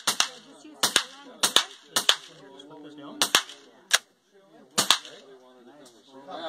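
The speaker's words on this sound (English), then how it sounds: "And then gently squeeze the trigger." Beretta Storm 9mm carbine fired outdoors, sharp close single shots in a loose series of about eight, spaced roughly half a second to a second apart, with short gaps of quiet between them.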